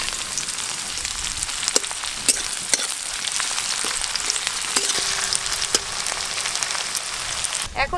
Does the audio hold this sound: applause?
no